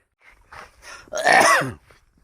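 A few soft throat-clearing sounds build to one loud, harsh cough up close, then quiet.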